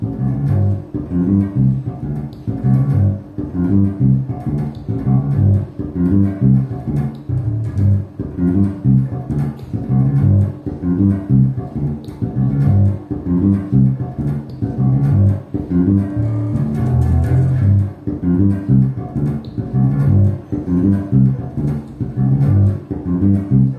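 VAULT JB5 bass guitar on its neck pickup, volume rolled up to about 70 to 80 percent with tone around half, playing a steady rhythmic line of low, round notes, clear and alone.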